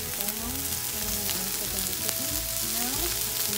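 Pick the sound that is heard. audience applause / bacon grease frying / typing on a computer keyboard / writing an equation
bacon grease frying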